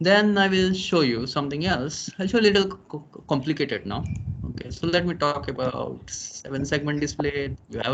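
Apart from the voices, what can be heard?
No distinct noise like a dog, phone or traffic.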